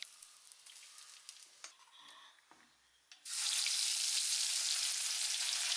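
Small onions dropped into hot coconut oil burst into a loud, steady, close sizzle that fills the rest of the clip, after a quieter stretch of faint clicks and kitchen handling.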